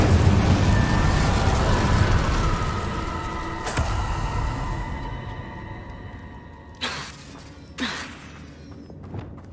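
Confringo and Incendio spell blasts in the Hogwarts Legacy video game, a loud fiery rumble that fades out, then a few sharp bursting pops near the end.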